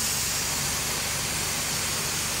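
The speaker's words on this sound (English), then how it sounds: "We're steaming it out now." Carpet steam cleaning machine working a living room carpet during a pet urine removal treatment, giving a steady, loud, unbroken hiss with a low motor hum beneath it throughout.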